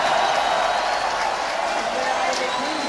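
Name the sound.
crowd cheering for skateboarder Sean Malto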